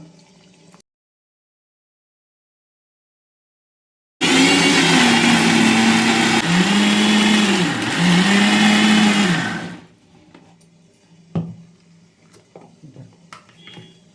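An electric kitchen blender grinding black urad dal and onion chutney runs loud and close for about six seconds, its whine dipping as the load shifts, then stops, leaving quiet kitchen noise with a couple of knocks.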